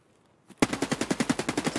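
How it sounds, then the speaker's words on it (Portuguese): Silence, then a sudden burst of rapid automatic gunfire in the game Escape from Tarkov, about a dozen evenly spaced shots fired in quick succession, loud and close. "quem é que está aos tiros?"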